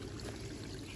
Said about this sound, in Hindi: पानी आ रहा ऊपर से